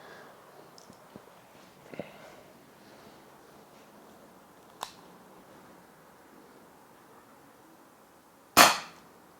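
An 8-inch Ruger SuperHawk 6mm airsoft revolver by Umarex fires one loud, sharp crack near the end, with a couple of faint clicks earlier over quiet outdoor wind noise.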